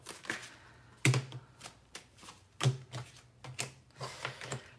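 Tarot cards shuffled and pulled from a deck at a table: a string of crisp riffling bursts and sharp card snaps, close and fairly quiet, with no talking.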